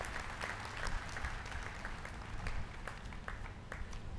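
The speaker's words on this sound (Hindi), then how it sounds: "हम सब ताली बजाकर स्वागत करते हैं, अभिनंदन करते हैं।" Steady audience applause fills a ceremony hall as the Vice President is welcomed at a teachers' and retirees' honour event in Kota-Bundi, many hands clapping continuously at moderate loudness with no speech over it.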